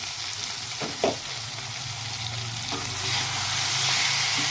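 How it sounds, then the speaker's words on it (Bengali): Chicken being sautéed with spices in hot oil in a pan, a steady sizzle and frying hiss with a couple of brief stirring knocks near the start, the sizzle swelling louder toward the end. "মশলাটার সাথে সুন্দরভাবে চিকেনটা আমার কষানো হয়ে গেছে"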